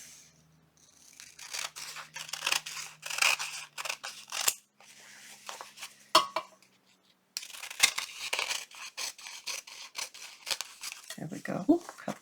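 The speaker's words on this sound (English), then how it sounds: "We'll fold the bottom up. We're going to have to cut the sides." Scissors snip through thin faux glassine paper for a junk journal in a series of close, crisp cuts, with paper rustling and folding between them while a voice talks throughout.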